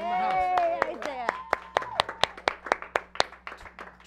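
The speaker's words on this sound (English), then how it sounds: "Round of applause for Isaiah." Small room audience at a year-end comedy show clapping for a performer, a burst of hand claps that thins into scattered, distinct claps, with a voice talking over the opening moment.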